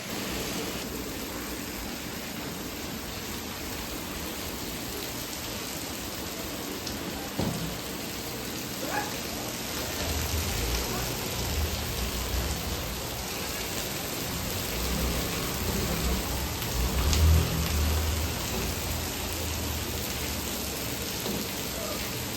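Steady evening rain falls throughout, a dense even hiss of drops on surfaces, with occasional heavier patters and low rumbling swells partway through.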